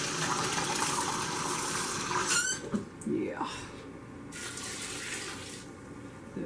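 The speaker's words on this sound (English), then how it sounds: "I think I might add just a little more water to that." Water runs from a faucet into a pot of green tomato sweet pickles, a loud steady gush that cuts off midway and then runs on more softly, with a brief spoken word.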